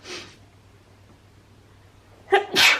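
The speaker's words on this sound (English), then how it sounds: "I think I'm gonna sneeze" A single sharp sneeze near the end, preceded by a quick intake of breath, close to the listener in an otherwise quiet room.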